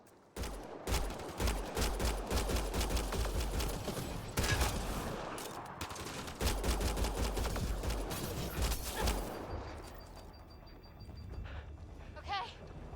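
Video game gunfire in rapid bursts, dense crackling volleys rolling continuously for several seconds, then thinning out into scattered shots and mechanical clicks as the fight ends.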